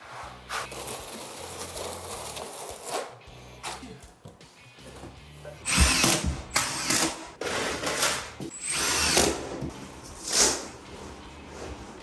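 A drill-driven paddle mixer churns thin-set mortar for a bathroom tile job, whirring in several bursts with rattling scrapes, starting and stopping across the clip and loud up close.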